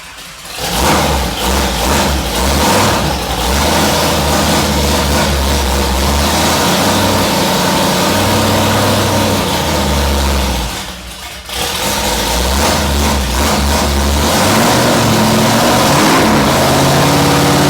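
A supercharged big block Chevy engine in a mud truck runs loud and close, holding a steady roar with repeated revs that rise and fall, a brief dip near the middle before it surges back.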